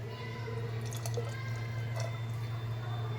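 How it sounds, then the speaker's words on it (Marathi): Leftover water from cooked rice is poured into a pot of rajma gravy, giving soft dribbling and dripping liquid sounds over a steady low hum. "मी तर राईस शिजून घेतलेलं थोडंसं जे पाणी ठेवले ते ॲड करू"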